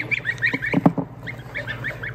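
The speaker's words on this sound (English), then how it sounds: "The geese are huddled up in the corner," Geese honking in a pen, a run of repeated nasal honks and calls from several birds close by, overlapping with soft shuffling.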